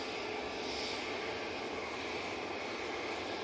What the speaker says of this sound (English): Jet 2 next out using the 321 Neo.